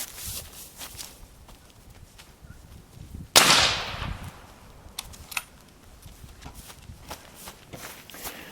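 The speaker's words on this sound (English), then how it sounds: "then we'll do it again with one round from the camera's angle" A single suppressed rifle shot, heard from the camera position, lands as one sharp muffled crack with a brief decaying tail amid quiet outdoor shuffling.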